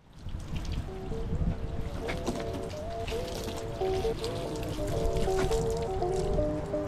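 A garden water hose sprays steadily onto a ceramic-coated car hood, a continuous close splashing and trickling wash with a faint tonal hum running underneath.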